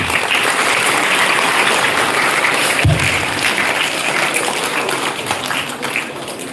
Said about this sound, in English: Let us give a big round of applause for them.